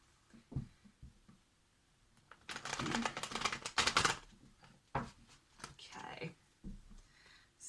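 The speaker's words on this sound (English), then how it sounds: "Right, just one more shuffle." A burst of papery riffling as a deck of tarot cards is shuffled, quiet handling before and after, with a voice speaking softly in between.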